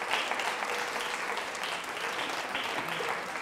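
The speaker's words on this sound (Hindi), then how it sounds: "तालियां जोरों से बजाइए आप" Steady audience applause at a girls' teachers' training college quiz show in Jaipur, a continuous wash of many hands clapping at moderate distance without a break.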